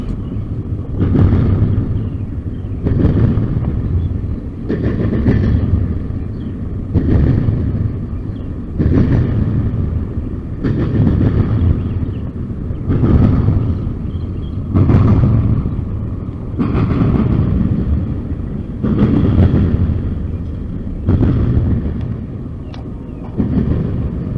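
A long Norfolk Southern container freight train rolls past close by with a heavy, rhythmic rumble, its wheels thumping in regular beats about every two seconds for the whole stretch.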